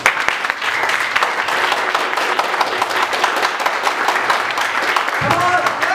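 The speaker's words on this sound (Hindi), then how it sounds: "में सब लोगों तालियां बजाओ।" A church congregation at a Sunday worship service in Amritsar claps hands together, steady dense applause throughout with some voices mixed in near the end.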